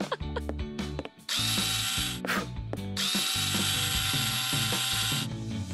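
A power drill whirs in long sustained bursts while driving screws to finish assembling a wall, with ratcheting clicks and clanks between runs, loud and close.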